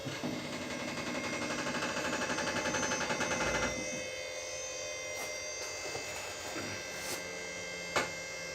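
A QuickJack car lift raises a 1972 Holden custom wagon in a garage, a loud steady mechanical whine and buzz for about four seconds that stops, followed by quieter hum with a few faint clicks and a sharp knock.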